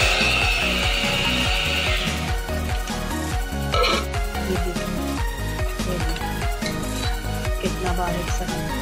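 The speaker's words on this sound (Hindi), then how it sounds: "सबसे पहले जो है मैं ज़ीरा पीसती हूँ ग्राइंडर में।" An electric kitchen grinder whirs as it grinds cumin seeds into powder, a loud, close, continuous rattling buzz that holds steady throughout.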